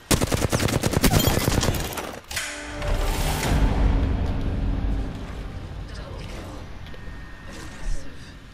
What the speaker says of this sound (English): Contact with hostile. Shooting at me.